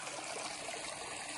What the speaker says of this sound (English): most of these springs and mountain runoffs will be running